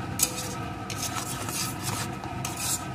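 Salt and sugar stirred into a vegetarian soybean kofta curry, heard as steady scraping and rubbing of a spoon against the pan with a couple of light metallic ticks.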